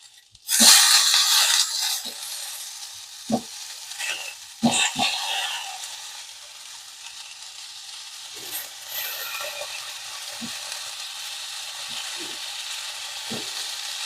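Tomatoes, curry leaves and nalleru (veld grape stems) fry in a pan with a loud hiss that bursts in at the start, then settles into a steady, softer sizzle broken by occasional spatula knocks and stirring clicks.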